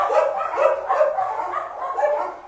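About 45 dogs bark and yip in overlapping bursts, a busy, continuous chorus at moderate distance.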